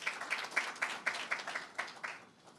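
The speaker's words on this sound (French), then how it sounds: "Vous pouvez l'applaudir, s'il vous plaît." Audience at a press conference for a building-sector awards night clapping in a fairly sparse, rhythmic way, individual claps standing out before fading toward the end.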